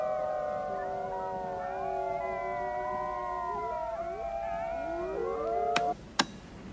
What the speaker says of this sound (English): Halfway through the howl, he changes an octave.